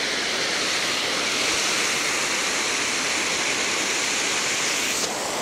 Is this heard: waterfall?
yes